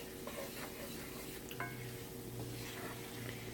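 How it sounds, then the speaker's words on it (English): Flour and sausage roux cooking down in a cast iron skillet, with a steady low sizzle and a few soft scraping stirs throughout, heard alone at moderate level. "we're still cooking the flour down a little bit"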